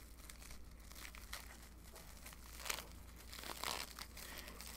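Crinkly plastic packaging rustles and crunches continuously as it is pulled open, with a couple of louder tearing crackles; the sound is close but fairly quiet.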